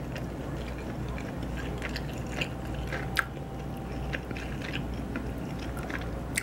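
Someone chews a slightly salty food at a desk, with soft, faint mouth and biting sounds over steady room noise and no talking.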